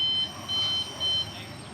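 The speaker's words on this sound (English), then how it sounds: "The heck is that beeping noise?" Repeated electronic beeping at Disneyland in California on the day before its grand reopening: three steady high-pitched tones, each lasting about a quarter to a third of a second, evenly spaced over a faint background hum with no talking.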